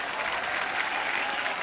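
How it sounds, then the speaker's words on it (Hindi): A studio audience at a comedy talk show bursts into brisk, dense applause, a continuous crowd clapping that stays fairly even and loud for the short stretch. "उसके लिए पहले जोरदार तालियां।"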